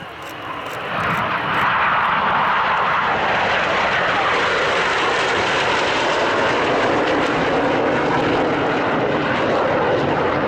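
Red Arrows BAE Systems Hawk T1 jets fly overhead at an air show, a loud, sustained roar that swells within the first second and stays broad and powerful throughout.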